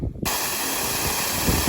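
A paint spray gun spraying water: a steady, loud hiss runs almost without a break after a brief quiet start, broadband and close, with no voices.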